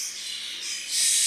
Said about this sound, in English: So they are in the roller door behind me, so they're going to chirp every now and then.